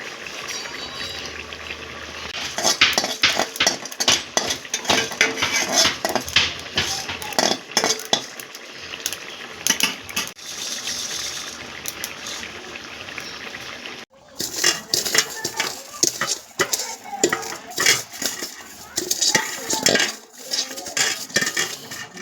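Dry neem leaves and garam masala are crushed in a dry pot, making loud, rapid scraping and clattering strokes of metal on metal that pause briefly midway before resuming.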